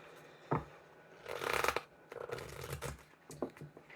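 Tarot cards shuffled by hand in a few bursts: a sharp riffle near the start, a longer dense flutter in the middle, then several shorter shuffles, close and fairly quiet with no talk.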